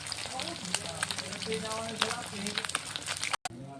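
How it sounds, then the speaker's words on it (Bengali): Fish fries in oil, giving a steady crackling sizzle with scattered pops, close and moderately loud, while a voice talks over it. "এইখানে দেখো আমাদের মাছ ভাজা হচ্ছে"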